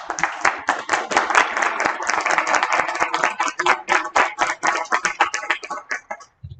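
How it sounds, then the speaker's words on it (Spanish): An audience at an environmental education congress gives a loud, close round of applause for the forum participants, hands clapping in a dense, fast patter that holds steady before tapering off and stopping abruptly at the end. "les pido por favor que les ofrezcamos un fuerte aplauso"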